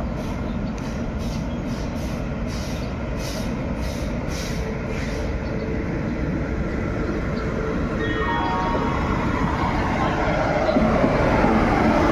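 Steady rumble and clatter of a passenger train rolling along the tracks, heard from inside, continuous and fairly loud, with a faint high whine appearing near the end.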